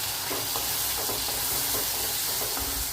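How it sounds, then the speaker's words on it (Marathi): Tomatoes stir-fried in a pan for masala bhindi, a steady sizzle with repeated light scraping strokes of a spatula close by, no voices. "आता ते परतवून घेऊ आणि त्यात टोमॅटो टाकून घेऊ आपण"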